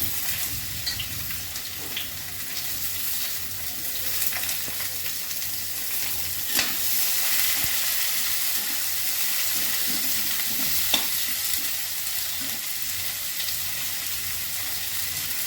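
Potatoes sizzling in hot oil with grated ginger and chopped onion added, a steady broad hiss of frying that runs throughout, with a few faint clicks and stirs beneath it and no talking.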